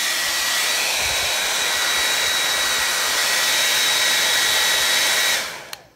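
A hair dryer blows steadily and loudly on a DIY shoe craft for about five seconds, then switches off and winds down into near silence.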